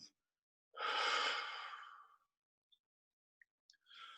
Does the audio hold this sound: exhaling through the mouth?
yes